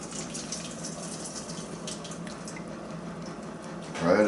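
Chicken bone broth simmered for about three days is strained, a steady close pour of liquid splashing and trickling without a break, rising into a louder gush at the very end.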